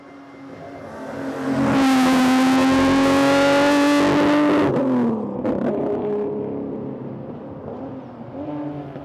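A Datsun 240Z revs up and accelerates, its engine note climbing steadily for a few seconds, then dropping with a gear change and settling into a lower drone as the car continues driving, close and loud.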